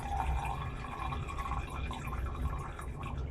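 Water being emptied out of a container during a Superéthanol fuel ethanol-content test, a steady close-up trickle and splash of liquid running continuously.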